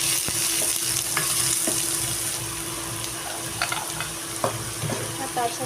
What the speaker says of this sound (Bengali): তারপরে দিয়ে দেবো প্রথমে পেঁয়াজটা।